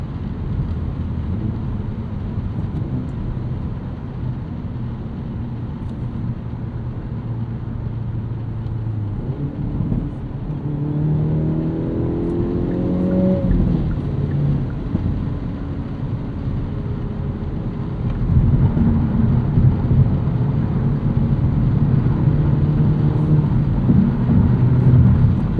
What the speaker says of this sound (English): you can hear there is quite a bit of road intrusion and wind intrusion from that thing I mentioned earlier